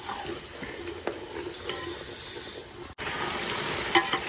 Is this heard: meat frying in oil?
yes